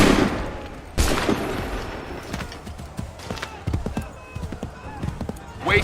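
Musket volley gunfire in Assassin's Creed III Remastered: one loud, sharp crack of massed shots, then scattered lighter pops and clatter, with voices shouting in the background.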